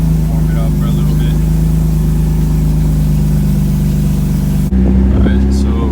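A BMW E36 drift car's engine idles loud and close with a steady low drone, then the tone cuts and shifts abruptly near the end as the revs change.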